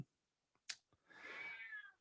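A house cat meows nearby, a few soft short chirps followed by one longer drawn-out meow in an otherwise quiet room.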